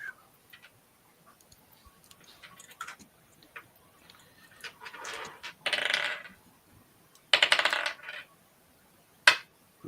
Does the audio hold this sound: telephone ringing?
no